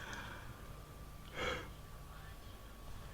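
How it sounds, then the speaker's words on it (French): A single breathy yawn-like exhalation from a person, rising briefly at mid-clip over a quiet, steady room background. "excusez-moi pour le bâillement."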